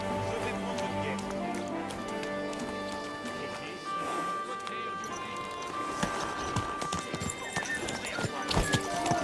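Horse hooves clip-clop in a steady walking rhythm in a video game, with a whinny and game voices talking over ambient music and background bustle.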